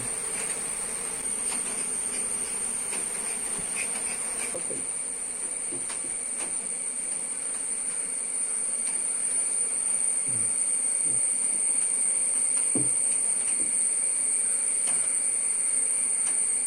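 Steady insect buzzing hums throughout around a honey bee box hive, a dense bee drone with faint clicks and brief knocks scattered over it, no talking.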